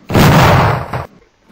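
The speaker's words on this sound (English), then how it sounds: "Someone made earthquake sound. I think it is earthquake." A heavy rumbling boom of an earthquake in a video game, one loud broadband blast lasting about a second before cutting off abruptly into quiet.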